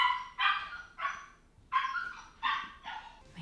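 Dog barking and yipping from inside a crate during crate training, about six sharp barks at irregular intervals with whiny edges, moderately near indoors and otherwise quiet.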